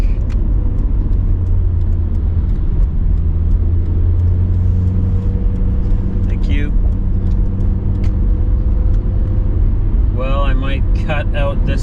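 A 1996 Nissan Skyline GT-R LM V-Spec cruises through Southern California traffic, its engine a steady, loud low drone heard from inside the cabin, with a few brief tonal chirps and rattles breaking in toward the end.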